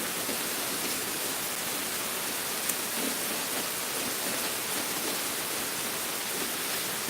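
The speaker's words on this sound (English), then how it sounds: "It is pouring rain." Heavy pouring rain falls steadily, a dense, even hiss of water that stays loud and unbroken throughout with no voices.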